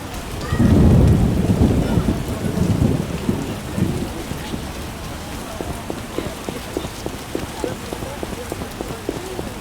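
Rain and a thunderstorm in the video game The Witcher, with a deep rolling thunder rumble in the opening seconds, then steady rain patter with crisp, regular drops on a surface.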